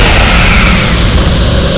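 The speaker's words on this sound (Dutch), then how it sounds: "Explosie!" A loud, dense explosion from the Harry Potter and the Prisoner of Azkaban video game, a sustained broadband roar and rumble filling the whole short stretch without a break.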